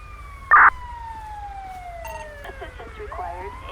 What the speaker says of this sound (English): go ahead with that siren